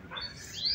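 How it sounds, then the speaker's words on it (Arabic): Small birds chirp in brief, thin, high tweets against a quiet background, somewhat distant and faint, at an outdoor seafood restaurant in Oran. "كي غاية مع الطوير عصافير وزقزق كنت تسمعوا في الطوير"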